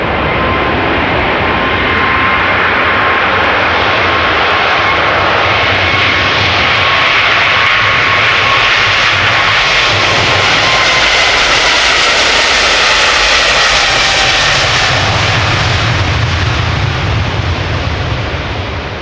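A KLM Boeing 777-300 jet departs Amsterdam Schiphol Airport for Johannesburg, its engines a loud, steady roar close by that holds for the whole stretch, with no talking.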